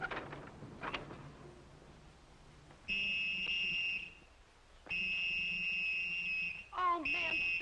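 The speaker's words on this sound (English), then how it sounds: "Oh, man, stop blowing that whistle." A shrill whistle is blown in bursts, a few long piercing blasts separated by pauses, with a voice and other noises in between.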